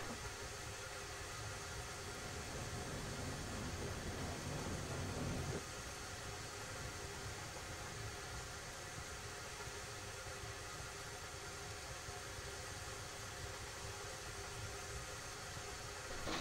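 A steam locomotive idles in the railroad game Railroads Online with its regulator at 7% and brakes releasing, a steady mid-level mechanical drone whose hiss eases after a few seconds.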